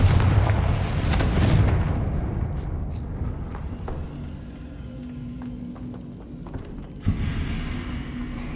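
A Confringo fire blast spell explodes in Hogwarts Legacy with a loud, booming burst that rumbles and fades over a few seconds. A second, smaller blast lands near the end amid faint game effects.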